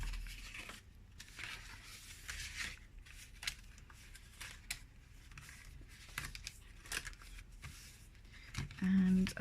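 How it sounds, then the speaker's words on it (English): A folded card slides into a papercraft envelope made with an envelope punch board, with soft papery rustles, scrapes and small taps throughout, close and fairly quiet. "Now we're going to pop it in the envelope."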